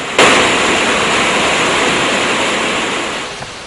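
Water rushing out through the opened spill gates of the Kaudula Reservoir, a loud, continuous broadband roar that starts abruptly and stays steady, fading only slightly toward the end, with no talk.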